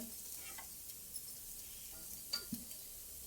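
Bitter gourd from a terrace garden frying quietly in a pan, a faint steady sizzle with a few light clinks and scrapes of a spoon against the metal.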